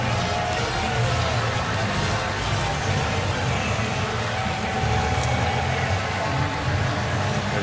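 Large stadium crowd roaring at a UCLA versus LSU college football game at the Rose Bowl, a dense, loud, continuous wash of cheering without letup.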